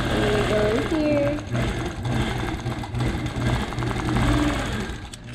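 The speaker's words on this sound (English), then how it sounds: "doing a couple stitches outside of the long stitch just to keep everything kind of secured and tucked down" A quilting machine stitching a memory quilt, a steady fast mechanical hum and rhythmic needle chatter running continuously up close while someone talks over it.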